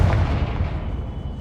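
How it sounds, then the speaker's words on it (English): A Confringo fire spell detonates in Hogwarts Legacy, giving a dense, rumbling blast that rolls on and slowly fades over about a second and a half, loud and close, with no voices. "Confringo."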